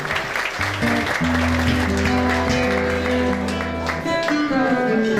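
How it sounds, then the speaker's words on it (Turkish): Audience applause for a young couple at a Valentine's Day dinner in a roof garden restaurant, steady clapping mixed with loud background music that runs throughout. "Alkışlıyoruz genç çiftimizi."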